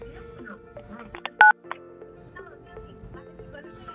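A telephone is dialed, a single short burst of keypad tones standing out against quiet background sounds and faint room noise.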